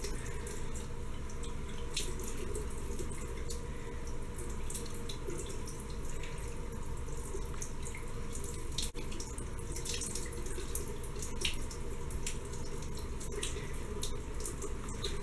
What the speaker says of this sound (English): So now after you get water all up and down your arms, dripping down everywhere